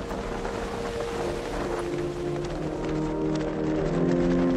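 A motorboat cruising at sea among islands off Vietnam produces a constant low engine drone with a rushing, wind-buffeted wash of water, steady and close throughout.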